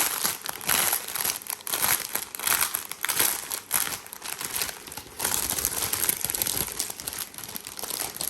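Plastic zip bags being opened during an unboxing, giving close, loud crinkling and rustling in irregular bursts throughout, with no talking.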